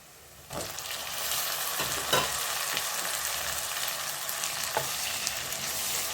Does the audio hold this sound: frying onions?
yes